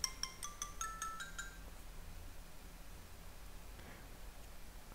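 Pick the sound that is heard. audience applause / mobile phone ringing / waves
mobile phone ringing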